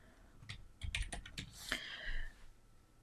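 Keys clatter on a computer keyboard in a quiet room, a short burst of a dozen or so close, crisp taps at an uneven rhythm, fading into silence at the end.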